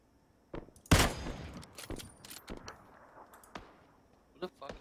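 Gunfire in the battle royale game PUBG: one sharp loud shot, then a scattered series of quieter cracks and clatters. Voices are heard faintly among the shots.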